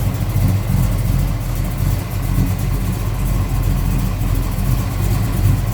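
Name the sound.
1969 Chevrolet Chevelle 454 V8 engine idling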